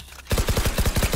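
Rapid burst of Phantom rifle fire in Valorant, about eight close, sharp shots in quick regular rhythm after a brief quiet start, loud and clear with no talk.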